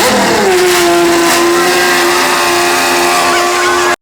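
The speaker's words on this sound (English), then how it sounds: "The V12 fired up, loud, aggressive, alive." A rebuilt, previously crashed Lamborghini Aventador SVJ with a V12 engine starts and revs hard, a loud, close, sustained snarling roar that climbs then settles into a high, steady wail before cutting off abruptly.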